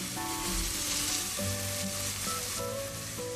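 Garlic sautéing in oil in a pan gives a steady, close sizzle with a faint scraping stir; no voices.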